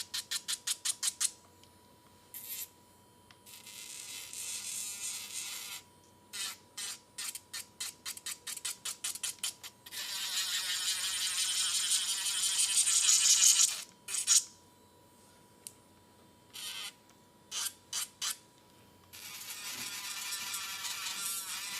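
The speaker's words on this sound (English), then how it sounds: "When I do long scalp like stiletto, I use e-file like this way" An electric nail file shapes long stiletto nail extensions, buzzing in short rapid bursts and then a longer sustained grinding stretch, fairly quiet and close, with no talking.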